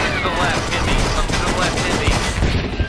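Battlefield V gunfire and explosive combat noise boom in a dense, continuous wash, with heavy low-end blasts and rapid overlapping shots throughout a tank battle scene.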